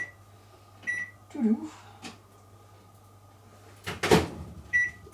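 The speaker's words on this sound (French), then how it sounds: "Je le mets au micro-ondes, mais en puissance" A kitchen microwave oven set to low power, melting ingredients for marbled muffins, hums steadily with a few short beeps and door clunks while a person talks over it.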